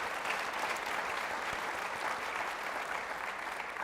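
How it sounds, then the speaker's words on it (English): Audience at a youth sports summit giving a sustained round of applause for city staff, dense even clapping from a large crowd throughout. "Can you give a round of applause to all the city staff members?"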